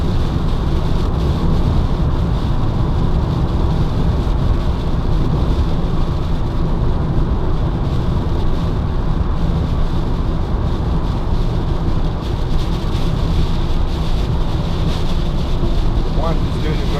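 Heavy rain and road spray drum continuously on the windscreen of a Peugeot Partner 1.6 HDi van driving at nearly 70 mph on a wet road, a loud steady wash with engine and tyre roar beneath and faint wiper sweeps.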